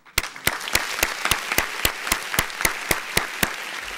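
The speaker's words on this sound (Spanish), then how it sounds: "vamos a darle el aplauso de la patria agradecida" A Cuban audience claps in a steady, rhythmic beat, with sharp, evenly spaced claps roughly three or four per second sounding together in unison throughout.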